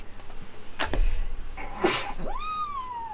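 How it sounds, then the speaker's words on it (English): A single sharp sneeze bursts out close up, followed by a drawn-out rising and falling vocal sound. "And I'm going to sneeze."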